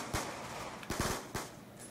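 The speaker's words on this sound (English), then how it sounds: "Swiftor says fire 3 bullets." Three sharp gunshots in a video game, evenly spaced over two seconds, each a short crisp crack with a brief tail, fairly quiet.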